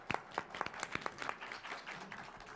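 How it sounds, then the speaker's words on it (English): Audience applause at a medical lecture on allergies: a short burst of scattered hand claps from a modest indoor crowd, sharp individual claps standing out, fading after about two seconds. "a round of applause for our colleagues."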